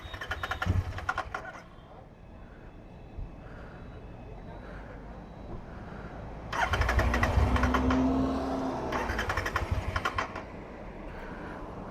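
A motorcycle that has run out of petrol is cranked repeatedly in Goa without catching: three separate bursts of starter churning, close and fairly loud, with background noise and voices between attempts.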